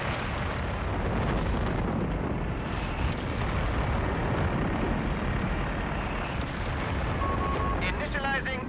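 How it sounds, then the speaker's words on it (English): A Jericho trumpet dive bomber attack in the game Company of Heroes 3, a dense, rumbling roar of explosions and heavy fire throughout, with a voice talking over it. "Jericho trumpets coming up now as well."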